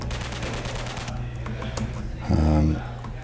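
A boss bug in a video game fires bullets as electronic sound effects, a steady stream of rapid, gun-like shots with a louder, buzzing tonal burst near the end, under faint background sound.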